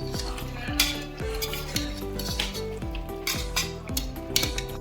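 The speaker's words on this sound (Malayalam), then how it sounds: "നന്നായിട്ടിത് നമുക്ക് മിക്സ് ചെയ്ത് ചേർക്കാം" Ground fried onion being stirred and mixed into a pot, with repeated rhythmic scraping and clinking of a metal spoon against the pot, close and steady with a faint sizzle beneath.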